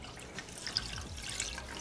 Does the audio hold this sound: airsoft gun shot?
no